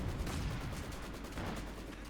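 A ZiS gun artillery barrage in a real-time strategy match rumbles on as a dense, continuous wash of distant blasts and rolling booms, with no clear separate shots and no talk.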